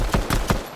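Three rapid gunshot blasts from a pump shotgun in the Fortnite video game, sharp and evenly spaced within under a second.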